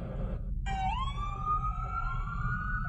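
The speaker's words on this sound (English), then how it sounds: "it wasn't long before we heard sirens" A siren rises and holds a long wailing tone, heard from a distance over steady low traffic rumble on 7th Street near Market.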